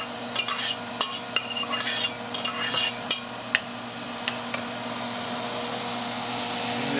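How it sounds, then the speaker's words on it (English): Spoon stirring a mung bean and spinach mixture in a cooking pot, with a run of close scraping and clinking strokes in the first few seconds, then fewer, sparser taps over a steady low background hum. "here we are, we're stirring it now"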